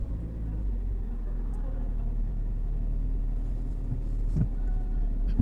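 Car engine idling and rumbling low during a clutch start in a manual transmission car, with a steady throb throughout and small bumps and knocks near the end.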